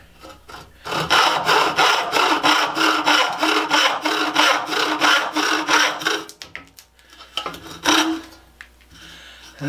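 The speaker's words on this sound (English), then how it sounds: "I'm going to trim off the end here." Handsaw cutting through the end of a wooden garden rake handle, a steady rhythmic back-and-forth rasp of strokes for about six seconds, then a few scattered knocks and a last short stroke, close and loud.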